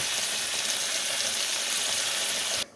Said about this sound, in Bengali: চলো মাছগুলো ভেজে তোমাদেরকে দেখাচ্ছি